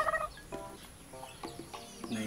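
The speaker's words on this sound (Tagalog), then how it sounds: "May manok ay." Soft, repeated clucking of a chicken at a moderate distance, a few short bursts over faint background noise.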